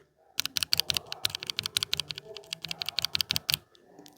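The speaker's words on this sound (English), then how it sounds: "And this is how the Rosewood sound." A keyboard fitted with Akko Rosewood switches being typed on rapidly, a close run of crisp, clacky keystrokes that stops after a few seconds, with no talking.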